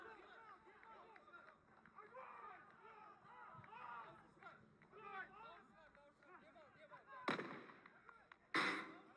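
Two sharp shots ring out near the end of a SWAT team assault at a tactical competition, following a stretch of busy crowd chatter and movement, each blast loud, abrupt and echoing.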